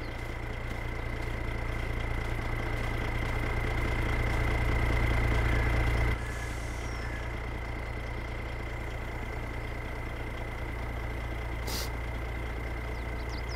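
Tractor engine idling in Farming Simulator 22, a steady low droning rumble that holds throughout, slightly louder in the first half before easing to a constant hum, with no voices.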